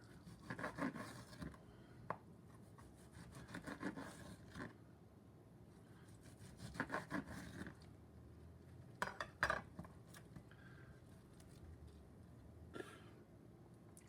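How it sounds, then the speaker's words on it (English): A knife slices smoked corned beef brisket pastrami against the grain on a board, with intermittent clicks and scrapes of the blade, quiet and close, separated by pauses. "So we're going to cut it against the grain."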